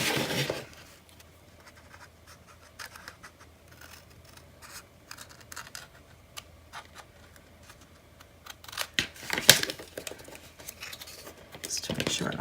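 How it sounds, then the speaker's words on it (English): Scissors trim craft material for a spring farmhouse project, giving a few short, close, quiet snips and scratches at the start and near the end, with soft handling noise in between. "I'm just going to trim that again"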